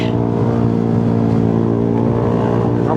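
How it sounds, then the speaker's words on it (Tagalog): A motorcycle engine drones steadily while riding on a mountain road in the Cordillera between Sagada and Atok, a loud, close, continuous hum with even harmonics and wind, no talk. "yung ingay lang ng motor mo."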